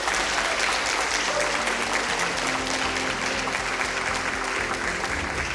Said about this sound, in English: we really, really want to once again applaud you